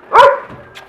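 A two-and-a-half-month-old female puppy gives one sharp, close yap followed by a softer short yip.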